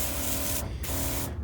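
Spray bottle misting foliar feed onto a young potato plant: two steady hissing bursts close up, separated by a short pause, with no voices.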